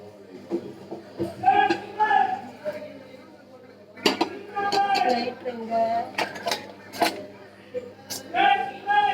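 A metal cooking pan is taken out and handled before dry roasting, with repeated close clanks, knocks and metallic clinks at an irregular pace, while a voice talks over them.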